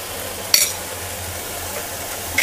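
Soaked toor and moong dal with fresh corn and vegetables sautéing in a pan, a soft steady sizzle broken by two bright metallic clinks of a stirring spoon.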